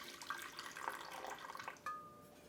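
Water is poured into a bowl sitting on a kitchen scale, a soft continuous trickling splash close by that lasts the whole stretch.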